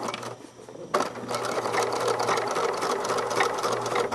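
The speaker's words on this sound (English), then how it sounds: "And I'm sewing right along that edge." A sewing machine stitching along the edge of a bound seam through to the garment piece, a brief pause then a fast, steady mechanical whir with rapid needle ticking, close and continuous, without speech.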